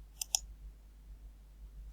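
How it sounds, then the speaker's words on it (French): Two quick, crisp computer mouse clicks close together on a bookmarklet link, isolated against near silence. "Je clique dessus,"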